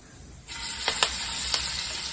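Coconut oil bursts into a loud hiss as food drops into a hot pan, then keeps sizzling steadily with a few light clicks.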